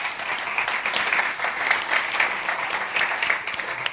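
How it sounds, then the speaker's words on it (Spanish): An audience at a CaixaForum talk claps for a speaker named Mar, a moderate, even round of applause lasting a few seconds with no talk over it. "Un aplauso, por favor, para Mar."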